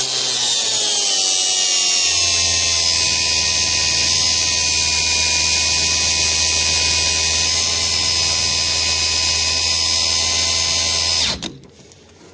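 A cordless angle grinder running on a TPCELL 4Ah battery pack built from DMEGC 18650 cells whines at a loud, steady high pitch for about eleven seconds, then cuts out abruptly as the battery dies, leaving a brief clatter.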